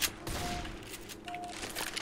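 Shotgun fire in Left 4 Dead 2, a couple of quick, muffled blasts among rapid bursts of gunfire, fairly faint against the game's background noise.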